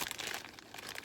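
A plastic bag holding Scentsy wax samples crinkles briefly and softly in a short, quiet burst of rustling.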